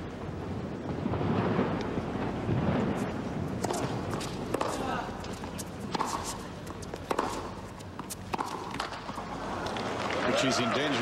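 Fireworks go off during a professional tennis match involving Hewitt: sharp, scattered bangs and cracks pop irregularly over a steady, noisy crowd-and-venue background, with indistinct voices murmuring throughout.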